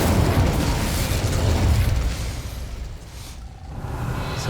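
A fiery Incendio spell erupts in a video game as a loud, roaring whoosh of flame that swells, then tapers off over a few seconds.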